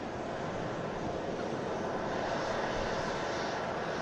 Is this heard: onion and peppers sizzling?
no